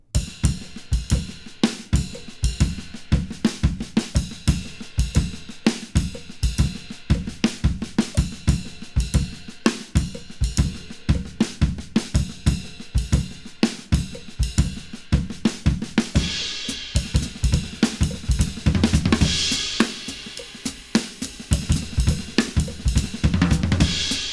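A drum kit plays a drum fill slowly, a long, dense pattern of kicks, snares and toms with crashing cymbals, loud and close, steady pounding hits without pause.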